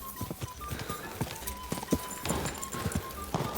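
Horse hooves clip-clop in a steady, uneven rhythm of close, moderately loud thuds in the medieval game Kingdom Come: Deliverance 2, with a brief whinny-like note and no speech.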